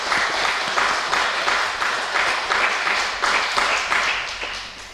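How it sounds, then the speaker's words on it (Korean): A church congregation claps together in sustained, even applause during a worship service, a dense wash of many hands with a faint rhythmic pulse, loud and continuous for several seconds with no talking. "우리 박수로 격려하겠습니다"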